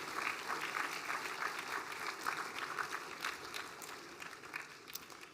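Steady applause from a school assembly hall full of people, a sustained wash of clapping that holds for several seconds before easing slightly toward the end.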